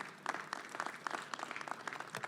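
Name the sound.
audience applause at boat show ribbon cutting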